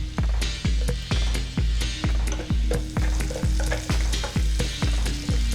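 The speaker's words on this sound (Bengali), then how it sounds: "এই তেলেই দিয়ে দিলাম রসুন কুচি" Chopped garlic frying in hot mustard oil left from frying potatoes and aubergine, a loud steady sizzle broken by regular scraping stirs about every half second.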